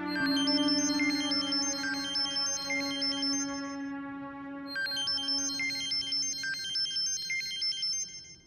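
A mobile phone rings unanswered, a bright repeating electronic melody looping twice in close succession, loud and steady, with no voices over it.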